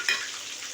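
Curry leaves, green chilies and crushed garlic frying in oil in a pan, a steady close sizzle with a brief louder crackle at the start, alone without talk.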